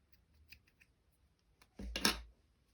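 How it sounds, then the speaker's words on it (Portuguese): Scissors snip rustic yarn while a bucket hat is crocheted. A few faint clicks come first, then one short, close cut near the end, with no talking. "E aí nós vamos cortar aqui."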